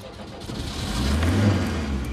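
A real car's engine at an open-ground live magic show, a steady mid-pitched drone that swells slightly as if revving up, fairly close and unbroken, with no talk over it.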